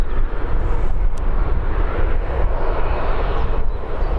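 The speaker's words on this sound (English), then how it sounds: "Ryanair on the runway now." A Ryanair airliner on the runway at Birmingham airport, its jet engines making a loud, continuous broadband roar close by that holds steady, with no speech.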